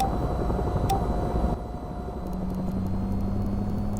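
VTOL aircraft engines in VTOL VR throttling up, a steady droning hum with a low whine that shifts pitch partway through as the engine note changes, continuous and fairly close.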